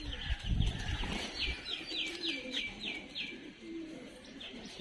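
Pigeons, fancy and common, chirp and flutter in a quick series of bright calls, with low cooing and rustling underneath; fairly close and continuous.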